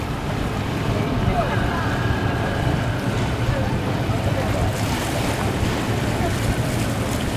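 Boats arrive at a race finish out on open water, with loud constant surf, wash and wind buffeting the microphone while a commentator talks over it.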